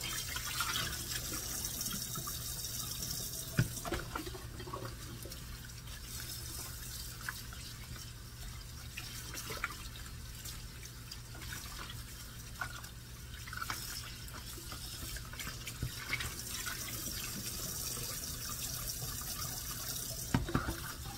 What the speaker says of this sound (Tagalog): tapos ko na siyang hugasan ng tubig